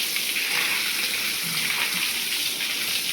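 Water being sprayed across the floor of a poultry shed during cleaning, a steady, continuous rushing wash with no pauses and no voices.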